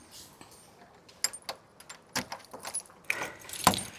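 Bike keys jangling in a hand, a scattered series of bright metallic clinks and rattles, close and fairly soft, with a louder burst of jingling toward the end and no speech.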